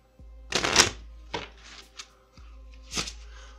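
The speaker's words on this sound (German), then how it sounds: "zu Beginn kann das Kartenspiel frei gemischt werden" A Bicycle deck of playing cards is shuffled by hand: two short bursts of riffling with lighter taps and rustles between them, close and clear, with no talking.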